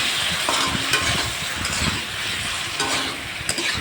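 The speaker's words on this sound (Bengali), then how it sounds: "তো আবার একটু জল দিয়ে ভালো করে নেড়ে চেড়ে দিচ্ছি।" Fish curry spices cook in a pan with a splash of water, stirred steadily. Scraping strokes come in a loose rhythm over a soft, constant bubbling sizzle, close and fairly loud, with no voices.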